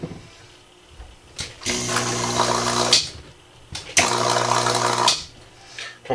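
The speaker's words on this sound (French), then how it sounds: "On va s'assurer que la pompe fonctionne bien." A Gaggia Classic espresso machine's water pump switches on twice, each run a loud steady buzzing hum lasting just over a second, with quiet gaps between.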